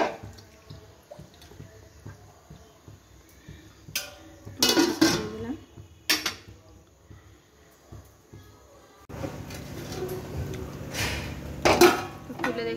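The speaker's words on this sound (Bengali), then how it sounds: "10-15 মিনিট এখন এরকম ভাবে একবার করে নেড়ে নেড়ে দিতে হবে" A spoon scrapes and knocks against a pot of payesh, Bengali rice pudding, in irregular bursts, with a denser stretch of stirring toward the end, heard close and moderately loud.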